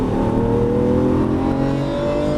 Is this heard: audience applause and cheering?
no